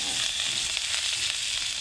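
Garlic sizzles steadily in a hot pan with already-fried chilies, a dense, even crackle at close range with no talking.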